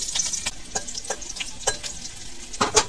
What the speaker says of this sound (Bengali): এবার লঙ্কা গুলোকে ভেজে নিব।